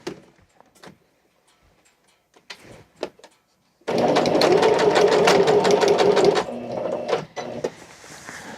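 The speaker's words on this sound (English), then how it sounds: "And then we're gonna go ahead and stitch." A sewing machine stitches curtain fabric in a steady, loud whirring run of about two and a half seconds, then slows and fades, with scattered soft handling sounds before it.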